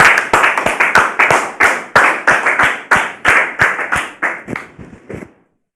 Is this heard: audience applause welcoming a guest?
yes